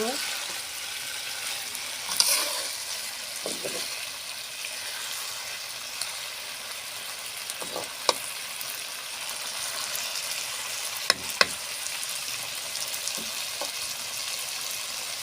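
Food frying in a pan on a home kitchen stove, a steady sizzle throughout, with occasional scraping and clinks of a utensil as it is stirred.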